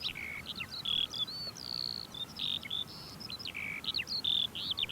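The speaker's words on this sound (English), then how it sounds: "Blackbirds suddenly become very conspicuous." Several blackbirds singing at Northam Burrows, with fluting phrases and sharp high whistles repeating in quick succession, fairly close and clear against a quiet background.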